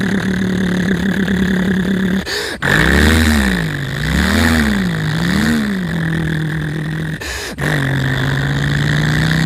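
A voice imitates an ambulance engine starting and revving, with a low rumble rising and falling in waves, then settling into a steady drone, broken by two brief sputters.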